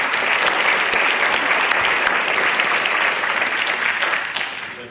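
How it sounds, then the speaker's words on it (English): A school parent workshop audience breaks into sustained applause, steady dense clapping filling the room for several seconds before tapering off slightly at the end. "That's a big applause for them."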